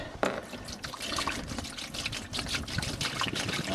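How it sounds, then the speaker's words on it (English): Central heating inhibitor is poured into a header tank during a power flush, making a continuous soft liquid trickle and splash that runs steadily throughout. "we're just going to pour that in through the header tank"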